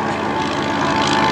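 A 1911 Curtiss pusher biplane flies at an airshow, its propeller engine giving a steady, loud drone that fills the whole moment with no break.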